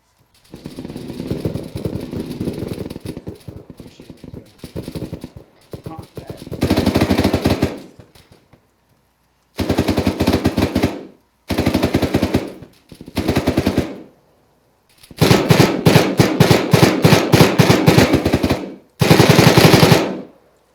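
Automatic rifle fire in the ArmA 3 co-op combat game, with repeated long and short bursts of rapid shots, loud and close, separated by brief silent gaps.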